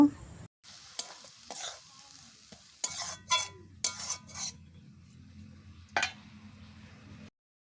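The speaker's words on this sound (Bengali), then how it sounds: "দেওয়ার পর আরও 4 থেকে 5 মিনিট মোচার সাথে নাড়াচাড়া করে কষে নেব।" Banana flower stir-fried with boiled lentils in a pan, a spatula scraping and stirring in irregular bursts over a steady low sizzle, close and moderately loud, with brief pauses between strokes.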